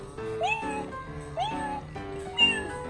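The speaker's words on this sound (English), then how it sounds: "Ayla, look, there's a kitty cat in here." A FurReal Friends toy cat gives three short electronic meows spaced about a second apart, close and clear, with a faint voice in the background.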